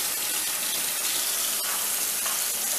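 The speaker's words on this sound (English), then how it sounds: "I am going to rinse this plate off and clean the plate off" Tap water runs steadily as a plate is rinsed in a kitchen sink after cooking salmon, a continuous close hiss and splash with no talking.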